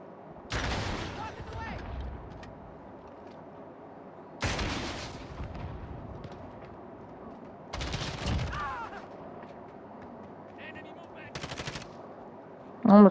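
Four separate bursts of machine gun fire in Call of Duty: Modern Warfare, each short and loud, spaced a few seconds apart with quiet ambience between them.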